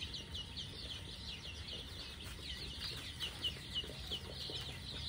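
Many young local chicken chicks, about two weeks old, peep continuously in high, thin overlapping cheeps, a busy flock chorus at moderate volume with no talk.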